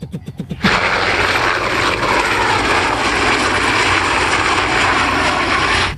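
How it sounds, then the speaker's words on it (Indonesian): An air force military helicopter drones loudly and steadily overhead after a brief choppy start, its rotor and engine noise filling the whole stretch without pause. "Ada helikopter angkatan udara."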